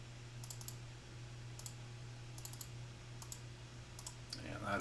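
A computer mouse clicks in quick pairs, several crisp double-clicks spaced a second or so apart, faint and close over a steady electrical hum.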